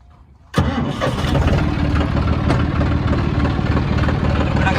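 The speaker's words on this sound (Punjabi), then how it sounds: "ਬਾਕੀ ਟਰੈਕਟਰ ਕਰਦੇ ਆ ਸਟਾਰਟ ਆਪਾਂ" A John Deere 5310 4x4 tractor engine cranks and catches abruptly, then settles into a loud, steady, rumbling idle close by.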